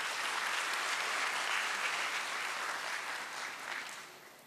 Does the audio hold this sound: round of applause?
yes